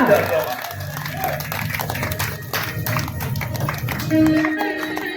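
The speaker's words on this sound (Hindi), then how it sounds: "इन दो तालियों के लिए एक बार आप लोग जोरदार तालियां लगा दीजिए, जोरदार तालियां" An audience at a devotional stage performance of Krishna and Sudama claps loudly and steadily, with cheering voices mixed in and a sustained musical tone entering near the end.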